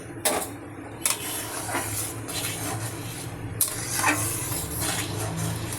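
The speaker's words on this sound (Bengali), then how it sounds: "আমার ডালটা কিন্তু ফুটছে" Lentils boil in a pot on a kitchen stove, giving a steady bubbling, sizzling hiss, with a few sharp clinks of a utensil against the pot near the start and middle.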